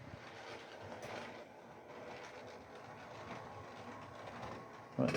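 The wheels of a model locomotive grate steadily along the track as it rounds a bend, a faint, continuous rolling rumble with a soft metallic rasp and a brief louder knock at the end.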